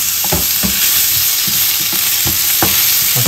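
Tomatoes stir-fried in a pan over sautéed onion for squid adobo, a steady loud sizzle with repeated scraping stirs of the spatula throughout, no talking.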